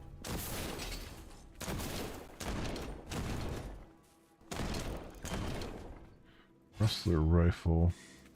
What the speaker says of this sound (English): Rustler rifle